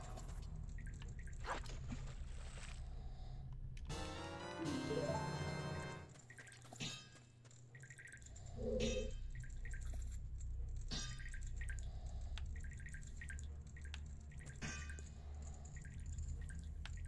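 In the video game Majora's Mask, water is fetched, heard as scattered drips and splashy liquid blips over a soft game background, with a brief rushing pour-like burst in the middle.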